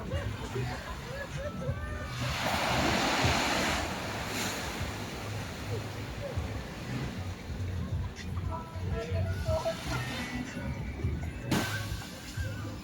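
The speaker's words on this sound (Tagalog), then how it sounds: "May alon din naman" An ocean wave washes in on a beach in El Nido, Palawan, with a broad rushing swell, then steady surf and wind noise continue, with faint distant voices underneath.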